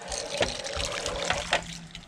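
Popcorn kernels are washed in water, making a close sloshing, trickling wash with a few brief splashy clinks over about two seconds.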